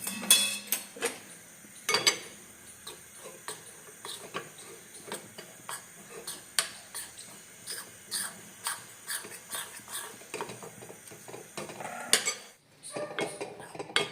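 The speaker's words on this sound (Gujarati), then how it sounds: "સૌથી પહેલાં ચણાનો લોટ લેવાનો અને એમાં થોડું તેલ નાખી અને શેકી લેવાનું" A spatula scrapes and clinks against a pan as gram flour is slowly roasted in oil, producing irregular metallic taps and scratchy strokes at close range over a quiet background.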